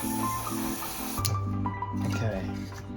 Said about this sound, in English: I'm just going to hammer this paint, just being light where the tape is.